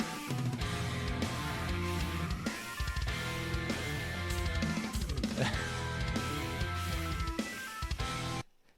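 Full rock band mix with a sustained organ tone woven among dense guitars, bass and drums, loud and continuous in a song, cutting off abruptly near the end.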